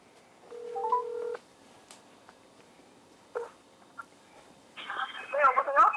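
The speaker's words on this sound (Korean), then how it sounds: "전화 한번 연결해 보도록 하겠습니다" Telephone call placed from a Korean radio studio: an electronic tone and short dialing beeps, a quiet pause, a brief click, then a burst of ringing or connection sounds at the end.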